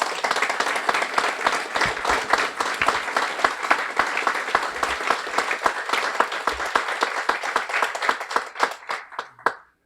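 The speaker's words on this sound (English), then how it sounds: "can you please stand up to have a warm round of applause?" A room full of people applauding at a guide dog graduation ceremony, dense sustained clapping that thins into scattered claps before stopping, near and loud.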